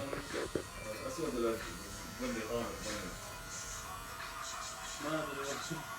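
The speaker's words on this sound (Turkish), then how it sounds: "Evet şimdi sıra berberlerin tıraşı." An electric shaver buzzes steadily as one barber shaves another in a barbershop, a continuous close hum running under talk throughout.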